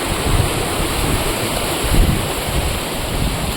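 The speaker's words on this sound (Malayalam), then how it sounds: "നല്ല കാറ്റുണ്ട്" Strong wind roaring steadily across the microphone, a dense rushing noise with a few heavier gusts and no voices.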